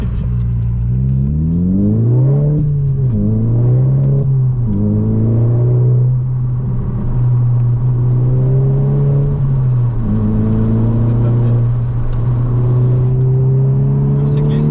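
A VW Scirocco R with 265 hp pulls hard through several gears from inside the car, its engine droning loudly and rising in pitch before dropping at each shift, with occasional talk underneath.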